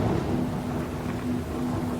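Heavy rain pours steadily with rumbling thunder underneath, a dense continuous storm wash filling the whole stretch without any voices.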